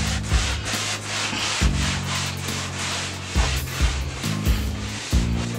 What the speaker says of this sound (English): it tells me to dry it off with a rag or some sort. So I'm going to dry it real good.